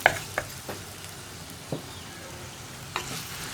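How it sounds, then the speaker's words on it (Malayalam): Okra being stirred for moru curry in a pan, heard as a few soft scraping stirs and brief sizzling bursts spread over a few seconds against a quiet background. "ഇതെല്ലാം ചേർത്ത് നന്നായിട്ടൊന്ന് ഇളക്കുക"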